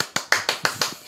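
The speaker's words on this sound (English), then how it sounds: "It was applause" Short burst of applause played from a sound-effect button in a podcast studio: six crisp, evenly spaced claps in rapid rhythm, close and dry, with no talk.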